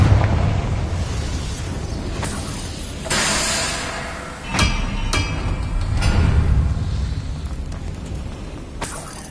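Confringo spell explosions in Hogwarts Legacy, several fiery booms and sharp bursts over a constant rumbling battle backdrop, with cracking impacts spaced unevenly.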